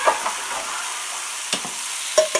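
Mushrooms sizzle steadily in a pan alongside onions, with a few sharp scraping knocks from stirring near the start, around the middle and toward the end.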